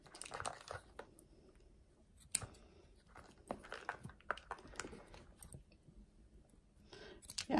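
Scissors snip through fabric during a sewing project, a string of scattered, close, quiet clicks and crisp cuts with gaps between them and a louder crunch near the end; no one speaks.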